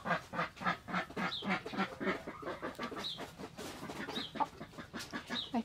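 Several chickens cluck and chatter close by in a busy, overlapping stream of short calls, with no talking.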